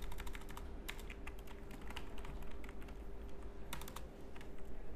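Steady typing on a computer keyboard, quick clustered key clicks with short pauses, moderately close under a constant low hum, while a report is being written in MS Word.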